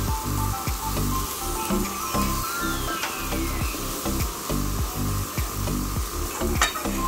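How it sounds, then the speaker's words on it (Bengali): Rohu fish curry gravy (macher jhol) boiling in a pot as the fish goes in, making a busy, rhythmic bubbling and sputtering that pulses steadily, up close and fairly loud. No voices are heard. "ঝোলটা ফুটে গেছে। এরপর এর মধ্যে আমরা মাছগুলো দিয়ে দেব।"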